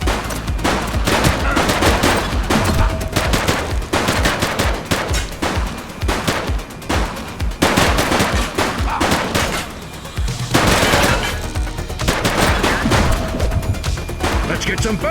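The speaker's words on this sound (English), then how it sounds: "Shots fired!" Gunfire in The Precinct video game: dense bursts of rapid automatic shots and sharp cracks, loud and close, coming in waves with brief lulls, while voices shout in the middle of the fire.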